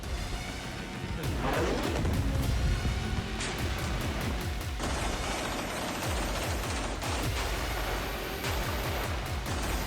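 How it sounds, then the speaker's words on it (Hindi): Gunfire and shelling in Khan Younis, Gaza come as dense, rapid bursts of cracking shots and heavy blasts over several seconds, loud and chaotic with continuous rumble underneath. "आईडीएफ खान यूनिस पर गोला बारूद बरसा रही है"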